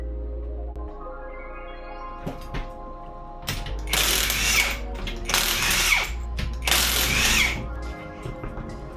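Power ratchet or impact tool spinning off lug nuts from the wheels of a 2005 Subaru WRX STI, three loud mechanical whirring bursts over a steady low hum.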